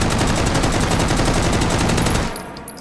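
Sustained full-auto gunfire in the VR shooter H3VR, a loud rapid stream of shots lasting over two seconds that then stops abruptly and leaves a faint tail.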